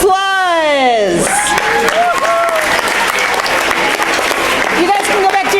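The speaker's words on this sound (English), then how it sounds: "And a round of applause." A crowd at a 2015 awards ceremony bursts into loud, sustained applause that continues steadily, while voices call out and talk over the clapping.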